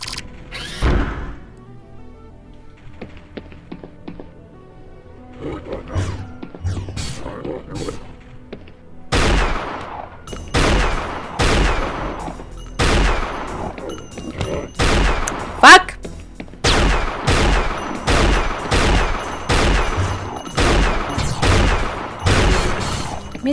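Gunfire in the Unreal Tournament mod Operation: Na Pali, with a steady run of loud, evenly spaced shots ringing out one after another, mixed with brief game effects and some talk.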